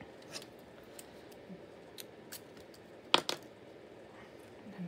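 Scissors trimming thread or paper while binding a mini scrap journal: a quick double snip near the middle, close and crisp, over faint room noise with no talk.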